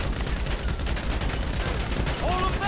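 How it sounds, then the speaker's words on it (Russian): Dense rapid gunfire rattles continuously in a GTA 5 shootout, bursts overlapping into a steady barrage, with game noise and a faint warbling tone near the end. "Пересиди обстрел."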